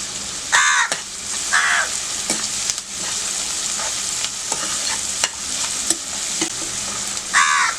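Onion frying and being stirred over full heat in a pan for a chicken gravy: a steady loud sizzle runs throughout, with scraping stir strokes recurring near the start and again at the end.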